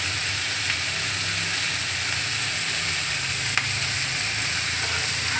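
Food fries in a pan on the stove, giving a steady, even sizzle and hiss that runs without a break and without talk.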